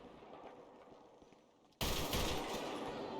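Loud automatic gunfire aimed at zombies in a GTA V zombie mod bursts in suddenly after a quiet stretch and continues as a rapid, continuous stream close by.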